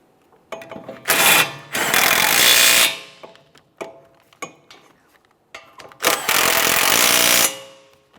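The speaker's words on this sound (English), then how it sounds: "snug them up and torque them to 45 foot-pounds" Rear brake bolts on a 2014-2018 Mazda 3 are tightened with a power tool in two long, loud grinding bursts, separated by sharp metallic clicks and clanks from tools on the brake assembly.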